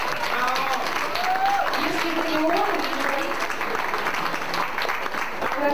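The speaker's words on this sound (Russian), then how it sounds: "И в основном все эти аплодисменты будут для него" Applause from a crowd at a birthday celebration, dense steady clapping sustained throughout, with a voice speaking over it.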